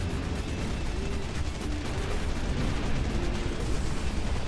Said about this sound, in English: Alright, let's do some more bombing